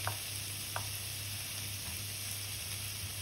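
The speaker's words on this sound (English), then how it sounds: "going to stir these because these are starting to caramelise on one side" Vegetables for a curry, starting to caramelise, sizzle steadily in a frying pan, with a few soft clicks of a utensil turning them, faint and close.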